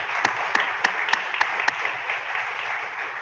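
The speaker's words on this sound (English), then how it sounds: "I'd like to invite everybody just to join me in a round of applause once again." A lecture audience applauds after a talk on the geography of Japan, a continuous wash of many hands clapping at moderate distance, with a few sharper individual claps standing out near the start.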